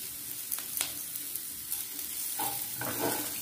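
Mixed vegetables frying in a kadai for sabudana polao, a steady soft sizzle with occasional scraping stirs of a spatula, close and moderately quiet with no talking.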